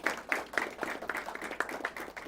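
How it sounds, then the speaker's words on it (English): A quiz-show audience claps for an arriving team, a short burst of fairly close, brisk applause with a quick, uneven rhythm. "Give them a round of applause."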